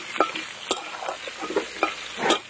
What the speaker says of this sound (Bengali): পেঁপেগুলো এবার ভেজে নেব।